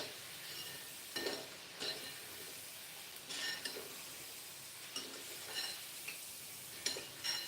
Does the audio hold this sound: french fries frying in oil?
yes